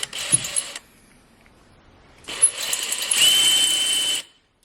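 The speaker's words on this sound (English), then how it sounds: "Drill mode." A power drill in drill mode whirs in two bursts against concrete, a short one and then a longer high-pitched run that stops abruptly, close and loud.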